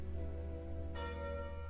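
A Calling Bell relic rings in Slay the Spire, a sudden bright, sustained chime with shimmering overtones that enters partway through over a steady game music bed and rings on to the end.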